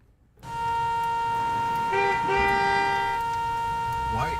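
A car horn sounds in a sustained, steady blast that starts abruptly and holds loud for several seconds, with faint background noise underneath.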